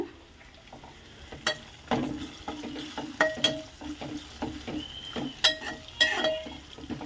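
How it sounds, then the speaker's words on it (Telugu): Chicken frying in a pan with leftover rasam added, stirred now and then, giving a steady near sizzle with scraping and clatter from the spatula and cookware. "చారు వేసుకుని చికెన్ ఫ్రై చేసుకుంటామన్నమాట"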